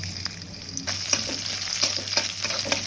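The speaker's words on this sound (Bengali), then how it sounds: "এখন কড়াইতে দিয়ে দেবো তেল, কেটে রাখা পেঁয়াজ রসুন" Chopped onion and garlic hit hot oil in a wok, setting off a lively close-up sizzle that thickens after the first second, broken by brief stirring scrapes.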